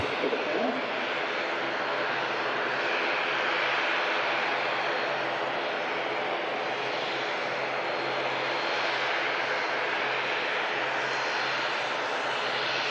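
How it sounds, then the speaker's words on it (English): Aer Lingus ATR turboprop taxiing out for Dublin at Manchester Airport, a steady droning engine hum that holds constant at moderate distance throughout, with faint background noise. "Another Virgin Atlantic A380 being moved around on the apron as the Lingus ATR taxis out to Dublin."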